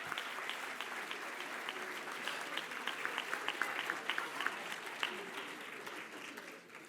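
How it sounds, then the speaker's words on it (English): Crowd at a dual enrollment recognition ceremony gives the coordinator a round of applause, sustained many-handed clapping with some sharper nearby claps, tapering off at the end. "would like to give a big round of applause to our amazing coordinator"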